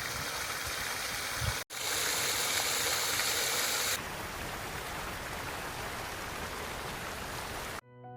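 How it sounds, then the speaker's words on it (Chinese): Water rushes steadily down a small waterfall and stream in Fitzroy Gardens, Melbourne, a dense close broadband splashing that continues without pause, with a brief cut partway. "這是公園裡隱藏的小溪與瀑布，潺潺的水聲，簡直是療癒心靈的天然交響樂。"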